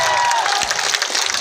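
A crowd at a political speech in Rajpur, Buxar breaks into a short, dense burst of clapping and cheering that fills the whole moment.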